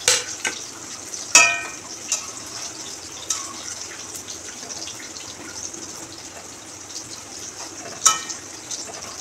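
Fried lentil dumplings drop into a simmering milk-based banana-stem curry and get stirred, giving a few sharp clacks of spoon on pan over a soft sizzling, bubbling bed, with the loudest knocks near the start and end.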